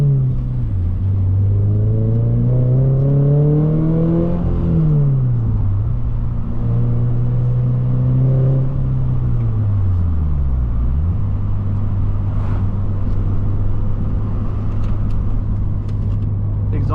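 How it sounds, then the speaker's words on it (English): Exhaust of a 2024 Toyota GR86 with a manual gearbox, droning loudly as it accelerates through rising revs, dropping between shifts and then holding a steady tone, heard from inside the car. "The exhaust sounds crisp on this car."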